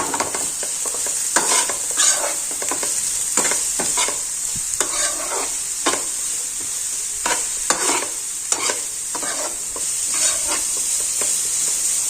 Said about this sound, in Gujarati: કોબી અને કેપ્સિકમ બધું જ આપણે પ્રોપર રીતે સાતળી લેવાનું છે